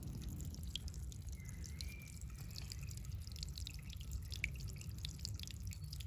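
Fresh water drips and trickles through a crack in sandstone slabs, with faint, irregular drips and a soft steady flow heard close up outdoors.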